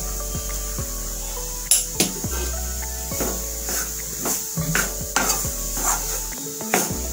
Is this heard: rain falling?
no